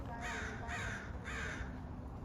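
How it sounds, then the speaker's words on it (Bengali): Three loud, harsh crow caws in steady succession, close by, over a low rumbling background. "আমরা কাক দেখলাম আর কাকের ডাকও শুনলাম"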